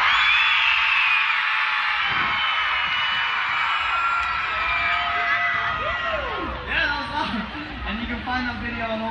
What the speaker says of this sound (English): when we say Wisconsin scream, you need to scream as loud as you can